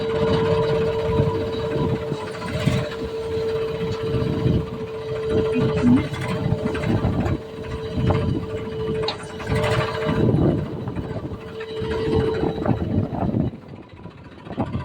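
A tractor's diesel engine chugs steadily close by, a low rumbling drone with a constant hum running through it for the whole stretch.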